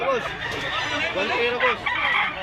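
Loud rooster crowing over and over, with several birds overlapping in a busy, close chorus that fills the whole stretch.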